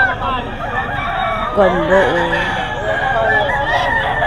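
Chickens and roosters at a poultry market in Bocaue, with roosters crowing loudly and continuously among overlapping clucks and bird calls, a dense close chorus with a brief spoken remark in the middle.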